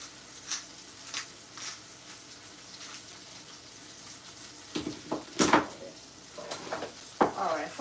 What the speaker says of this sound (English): I'm stirring the pot. It's frying up, it's frying up.